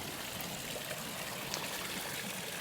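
Spring water at its source in Silkeborg flows steadily with a soft, continuous rushing trickle, even and unbroken, heard alone without voices.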